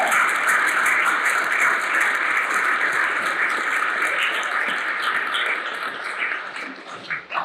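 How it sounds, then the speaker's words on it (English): Steady crowd applause at a black-tie dinner gala fills the whole stretch, dense and even, tapering slightly toward the end with a few louder claps. "first give her a round of applause"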